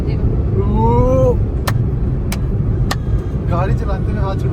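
Inside a moving car, a constant low engine and road rumble runs beneath people talking, with a few sharp hand claps.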